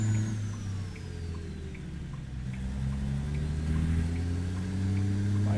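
A custom Peterbilt 379 truck engine in American Truck Simulator rumbles and revs through gear changes, its low drone rising and falling over several seconds, steady and moderately loud, with no talk.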